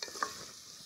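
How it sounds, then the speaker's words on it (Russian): Onion, garlic and potato fry in oil in a pot, giving a brief, soft, steady sizzle with a light stir. "Жарится у меня лук, чеснок"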